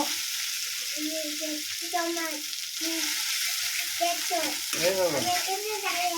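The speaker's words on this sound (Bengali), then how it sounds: "শুকনো লঙ্কা তেলে দিয়েছি তো ওই জন্য" Dried red chilies frying in hot oil, a steady close sizzle running throughout beneath someone talking nearby.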